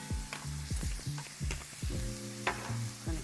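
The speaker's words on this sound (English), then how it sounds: "I'm going to give that a stir." A spoon stirs creamy chicken spaghetti seasoned with Italian seasoning in a pan, making repeated scraping, squelching strokes over a steady sizzle, close and fairly loud.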